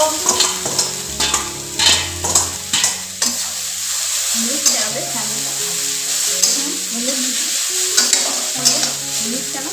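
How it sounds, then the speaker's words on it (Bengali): Boiled chow mein noodles stir-fried with fried potatoes in a pan give a steady loud sizzle, with repeated scraping and clinking strokes of a spatula against the metal throughout. "আমার আলু ভাজা হয়ে গেছে, এখন চাউমিনটা দিয়ে দেবো।"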